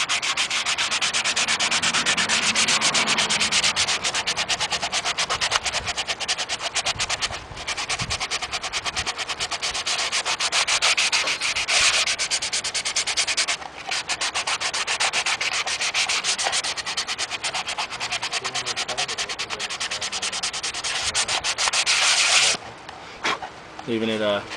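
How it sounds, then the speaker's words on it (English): A fine-grit soft sanding sponge rubbing excess paint off painted clone trooper armor: continuous close, dense rasping strokes with brief pauses, a voice talking over it. "we're going to use in a soft sanding sponge, the fine grit, and basically you're just going to be sanding away"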